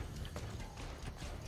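Horse galloping in the video game Assassin's Creed Brotherhood: rapid, close clip-clop hoofbeats in a fast rolling rhythm, with a busy, textured game soundscape beneath.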